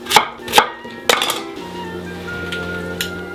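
A knife chops celeriac into four on a board, three sharp close thuds in quick succession, then a faint sizzle and a few light clinks.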